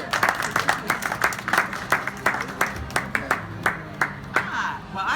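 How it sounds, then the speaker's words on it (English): Guests applaud at a 65th birthday celebration, a run of distinct, fairly close handclaps in a steady rhythm for about five seconds, with a few voices murmuring beneath. "I want to give a round of applause to my mother."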